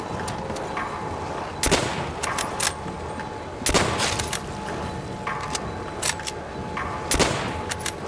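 Gunfire in Call of Duty World at War Zombies, with several sharp single shots ringing out at irregular intervals over a constant game background hum, each shot loud and close.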